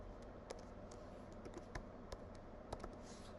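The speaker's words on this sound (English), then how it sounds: "I was typing the whole name in there." Quiet computer keyboard typing while a name is entered during a Photoshop template edit: scattered soft key clicks in irregular bursts over a low steady background hum, close and faint, with no voices.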